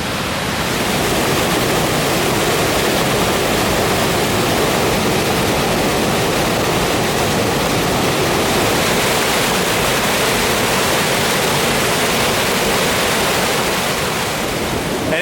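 A waterfall section along a path in the Niagara Falls area roars with a steady, loud, broadband rush of falling water that stays constant throughout, with no voices.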